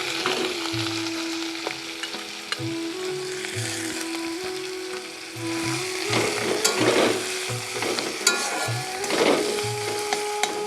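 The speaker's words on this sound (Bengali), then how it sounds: "এর ভিতরে আমি দেব সেদ্ধ করে রাখা মোচাগুলো।" Boiled banana flower tossed into hot oil with dried red chilies and whole cumin sizzles loudly up close, with repeated stirring scrapes and clacks of a spoon against the pan throughout.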